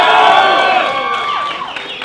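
Fans at a UFC 227 open workout cheer and shout in a loud, tonal swell of voices that peaks early and tapers off over two seconds.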